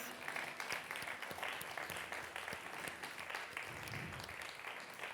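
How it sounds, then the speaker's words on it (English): Audience applause at a live vegan singer-songwriter concert at IARC 2013 in Luxembourg, a steady, moderately distant wash of many hands clapping that holds for several seconds without a break. "I think they deserve a big applause."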